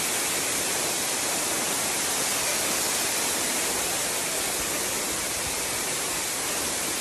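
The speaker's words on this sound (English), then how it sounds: "The waterfall is really flying down, and the trees up here just make it look even better." A powerful waterfall roars from very close by, a dense, continuous rushing wash of falling water that stays loud and even throughout, with no voices.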